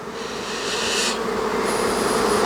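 Honeybees buzzing around a nucleus hive after a swarm has been introduced, a dense steady hum with no voices.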